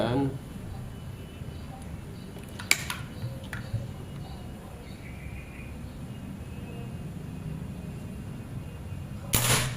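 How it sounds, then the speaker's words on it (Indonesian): A sharp shot from a Predator Ataman Crane PCP air rifle, 2700 psi with a 30 cm seamless barrel, snaps close by near the end, after a faint click earlier, against a steady low background hum. "Tembakan ke-9."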